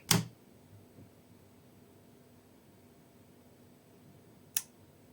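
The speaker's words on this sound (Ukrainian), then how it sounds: "І клацнуло в кінці реле." A GEYA time-delay relay clicks as its contacts switch: two sharp, close clicks about four and a half seconds apart, with near silence between them.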